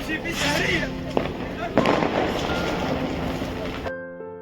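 New Year's Eve fireworks over the bridge in Heidelberg, Germany, distant pops and crackles under crowd noise and wind, with one sharper bang midway before cutting off.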